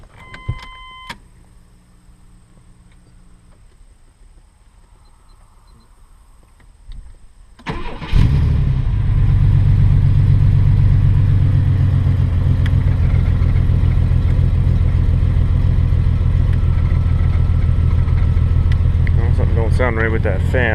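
A Chevrolet S10 Blazer just back from a radiator replacement starts after a few dash chimes, with a short crank, then settles into a steady, loud idle close by with a fan whirring, and a voice is heard briefly near the end.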